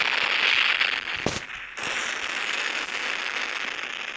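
A rocket lifting off, heard as a loud continuous roaring hiss with crackling bursts and a sharp crack partway through, fairly distant and steady without talk.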